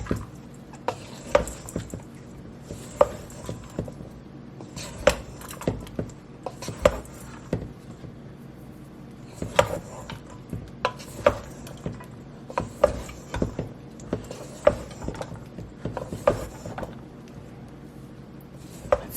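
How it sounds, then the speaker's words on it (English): A spoon stirs seasonings into crockpot stuffing in a bowl, with soft scraping and rubbing strokes punctuated by sharper knocks against the side, repeating steadily at close range with no voices. "And give it a mix to get all of those seasonings incorporated."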